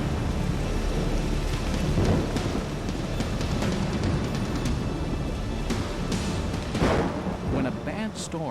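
A heavy thunderstorm with steady loud rain pouring down and rolling thunder rumbling throughout, dense and continuous, with a sharper crack of thunder near the end.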